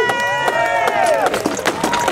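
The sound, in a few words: audience applause for a fighter at a medieval fair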